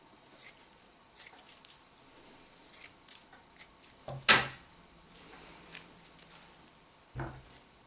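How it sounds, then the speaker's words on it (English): A single sharp burst of scissors snipping through paper stands out near the middle, with softer rustles and handling taps scattered around it. A last brief snip follows near the end, while crafting milkweed pod Christmas ornaments. "then we'll trim around it with the scissors."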